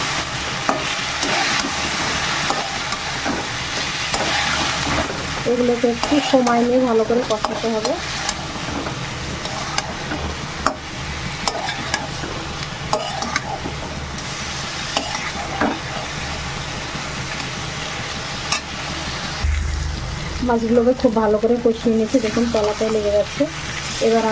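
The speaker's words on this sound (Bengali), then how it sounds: "এবার মাছগুলোকে খুব ভালো করে তেলের সঙ্গে কষিয়ে" Catfish (shing) sizzling and frying in hot oil in a pan, with steady stirring scrapes throughout and a voice talking over parts of it.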